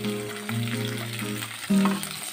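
Two large onions cut into cubes sautéing in a pan for capsicum chilli, a dense continuous sizzle close up with stirring, no talk over it.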